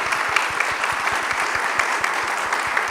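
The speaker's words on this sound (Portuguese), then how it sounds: "agora a gente vai dar uma salva de palmas para os Programadores da Manhã" An audience gives a round of applause for the Programadores da Manhã at a tech conference, dense and steady clapping sustained throughout with no voices.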